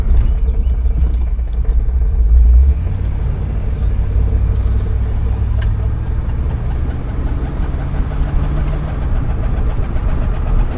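A 1975 Oldsmobile Delta 88 engine rumbles steadily from inside the cabin while driving, a low continuous drone that swells briefly early on, then holds even with faint road noise.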